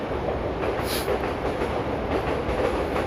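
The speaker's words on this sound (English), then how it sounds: "Yes, you can hear the train going past." A train passes close by in Tokyo with a loud, steady rumbling roar and rhythmic rail clatter, plus a brief high squeal of wheels.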